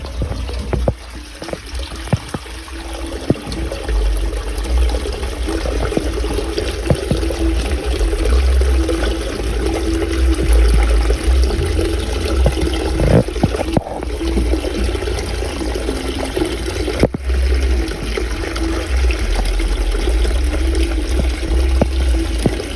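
Water floods into a damaged jet ski through a large hole near the intake, a continuous close pouring and trickling rush with gurgling bursts and a few sharp knocks.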